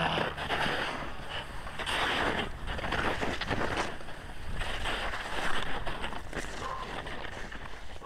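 Steady cold wind sweeps across an icy slope of Mount Elbrus with hard, glassy ice underfoot. It makes a continuous broadband roar that swells and eases slightly in gusts, loud and close to the microphone throughout.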